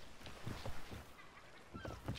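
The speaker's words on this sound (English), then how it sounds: "everybody heard that chicken" A chicken in the Sea of Thieves pirate video game clucks in a few short bursts over a steady background of water and ambient game noise.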